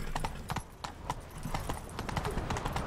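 Horse hooves clip-clop in a quick galloping rhythm in The Witcher 3, moderately loud and close, with faint game voices behind.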